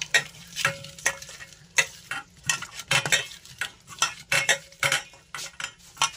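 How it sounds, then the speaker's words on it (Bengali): Fish pieces for a spicy sankar fish masala being worked by hand or spoon with salt and turmeric in a bowl, giving close, irregular bursts of wet scraping and clinking with short pauses between strokes. "ভালো করে নুন হলুদটাকে ভালো করে মাখিয়ে দেব।"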